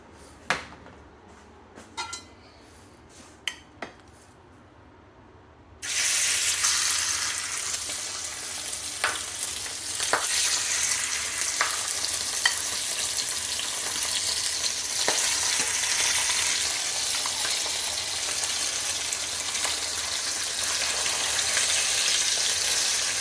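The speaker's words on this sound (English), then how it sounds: "now I'm just going to sear this, probably for about 3 minutes on each side" Meat searing in a hot pan for a jambalaya, a steady loud sizzle that bursts in after a few quiet seconds of faint clicks and continues alone with occasional pops and crackles.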